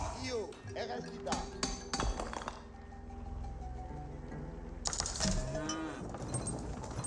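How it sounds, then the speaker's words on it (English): Cattle moo twice, once early and again later, in an Age of Empires 4 match, mixed with game clinks and clatter and a commentator's voice. "Sounds like more cows being pulled out on the field."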